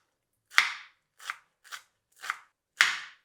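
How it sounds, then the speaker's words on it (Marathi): Fenugreek leaves being finely chopped with a knife on a board, five crisp, separate cutting strokes spaced unevenly, close and fairly quiet. "आता मेथी बारीक चिरून घ्यायची."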